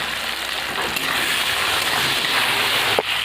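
Frying in a pan while red amaranth greens are being cooked with beans, onion and chilli, a continuous loud hiss and sizzle with a few faint clinks and no speech.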